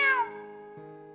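A human voice imitates a cat's meow in a single drawn-out, falling cry, loud at the start and trailing off, told as part of a Marathi children's story.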